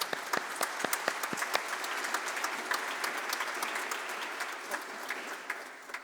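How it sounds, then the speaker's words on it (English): Steady applause from a conference audience in a hall, with a few sharp distinct claps standing out at the start before settling into an even, moderately loud patter that fades slightly at the end. "Please, big applause"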